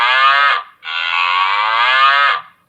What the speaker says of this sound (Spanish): ¿Adivinaron? La vaca.